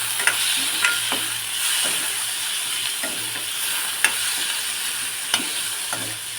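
Onion and tomato sautéing in a pan for Maharashtrian sev bhaji, a soft continuous sizzle with a few light spoon taps and stirring clicks, no talking.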